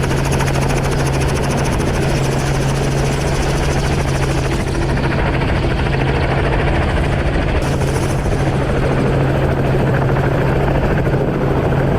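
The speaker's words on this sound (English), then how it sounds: "as the helicopter is trying to guide him outside a maize plantation" A helicopter hovers overhead while herding an elephant out of a maize plantation in the Greater Mara, its loud, steady rotor thump and engine drone continuous and close throughout.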